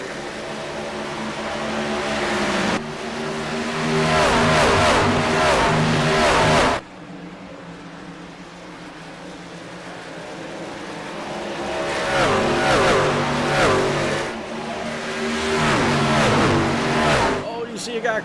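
Racing trucks in a truck-series racing video game roar past in waves, engines rising and falling loudly as they go by, with tire noise and a commentator talking over them.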